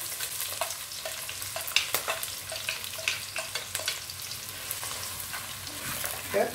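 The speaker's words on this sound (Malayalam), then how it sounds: "ആ ചട്ടി കിടന്ന് ഇത് നന്നായിട്ടൊന്ന് വഴന്ന് വരട്ടെ" Steady sizzling of onion, garlic and green chillies sautéing in a hot pan, with crackles and pops and occasional stirring scrapes, fairly close and without talk.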